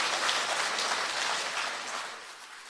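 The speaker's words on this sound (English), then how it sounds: "Shall we also give the University, Usman Danfodio University, Sokoto, a resounding round of applause?" An audience at a university event claps in a steady, dense round of applause that fills the space and slowly tapers off, with no voices over it.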